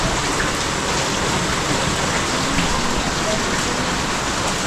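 Heavy rain pours down in a dense, steady roar of drops hitting surfaces, loud and unbroken throughout.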